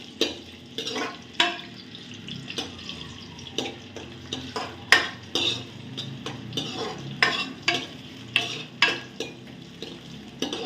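Onions fry in hot oil for a village-style mutton sambar. A spoon scrapes and stirs the pan in rhythmic, close strokes over a steady sizzle, with no voices.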